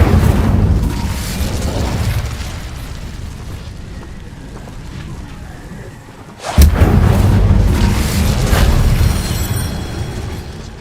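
Incendio fire spell in the Hogwarts Legacy video game bursts out as one loud, sharp blast followed by a rolling fiery roar over steady background game sound.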